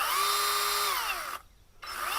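SKIL 40V battery-powered pole chainsaw motor whining at a high steady pitch, then winding down, cutting out for a moment and spinning back up, close and alone.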